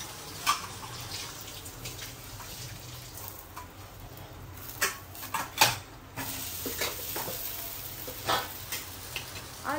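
Cooking pots and utensils are stirred in a home kitchen, with soft scrapes and occasional sharper clinks over a faint, low background hiss; fairly quiet overall and no one speaks.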